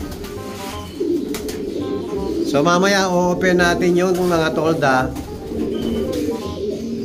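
Pet pigeons coo in a breeding loft with a low steady murmur throughout, while someone talks over them at close range for most of the stretch.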